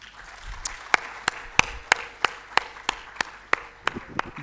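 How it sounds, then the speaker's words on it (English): Conference audience clapping, evenly spaced sharp claps in a steady rhythm about three per second, sparse rather than a full crowd roar, with no talking over it. "If yes, a round of applause."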